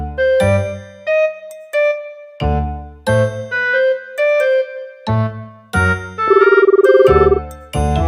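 A phone rings during a call with a loud electronic melody of repeated bright chimes and ding tones in short phrases, ending in a fast trilling run.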